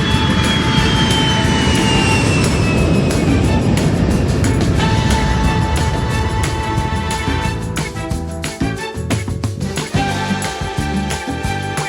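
Citation X private jet engines roar steadily in flight as heard from inside the cabin, a constant loud rumble with a thin high whine that eases slightly toward the end.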